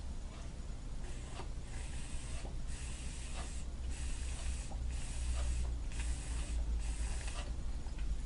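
A vape mod with a juice injection system, drawn several times with the switch off, giving a steady soft hiss and faint wet gurgling with rhythmic pulses of the draws, close and quiet with no talk.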